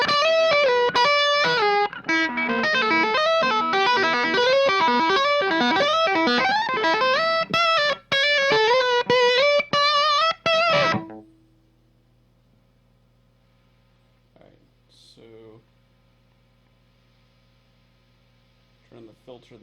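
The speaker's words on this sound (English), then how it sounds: "if you're gonna add this distortion pedal that's supposed to be like a rat, just strictly for buttery leads" An electric guitar played through a Mooer Black Secret, a Rat-style distortion pedal, rings out in a loud, dense run of distorted lead notes that cuts off abruptly, leaving faint hum and a few brief sounds.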